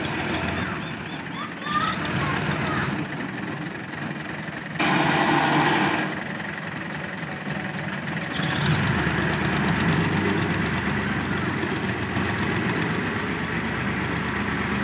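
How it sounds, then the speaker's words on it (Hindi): Tractor pulling a trolley into a house courtyard: a steady, close engine drone runs throughout with small swells in level, no talk over it. "बस देखें ये ट्राली आ गई है, अब इसको उतारेंगे। ये हमारी हवेल के अंदर डायरेक्ट ट्राली आती है,"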